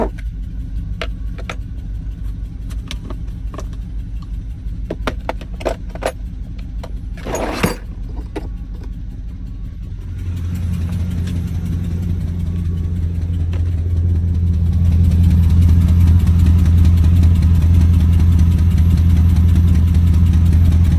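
A 4.8 LS V8 engine runs with a leaking exhaust header, idling with some ticking clicks early on, then rumbling louder and deeper as it steadies into a heavy, continuous drone.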